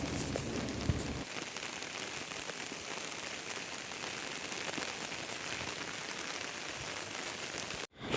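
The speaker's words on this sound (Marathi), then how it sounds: "पाऊस हा बघा येतो आहे" Steady, dense heavy rain pours down on a backyard vegetable garden with a constant hiss of drops striking surfaces, loud and continuous throughout, cutting off abruptly at the very end.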